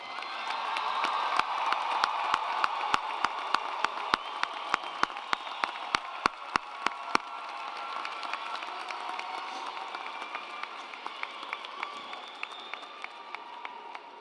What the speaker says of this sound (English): why don't we give our graduates one last round of applause